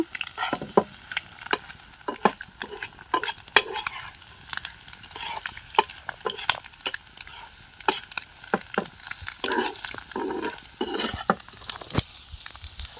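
A spoon scrapes and stirs a sizzling egg roast mixture in a pan, with irregular clinks and scrapes over a soft, continuous frying hiss.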